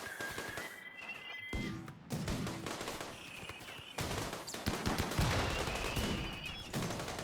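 Rimworld turrets firing on dropping Mechanoids, heard as dense bursts of rapid game gunfire and impacts mixed with tonal effect sounds, moderately loud and continuous throughout.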